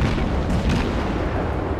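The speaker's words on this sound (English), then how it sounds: "So I will just wait for my cannons to come" Naval guns firing shells in the World of Warships game, a dense, continuous rumbling barrage with a burst of booms near the middle, loud and sustained with no talking.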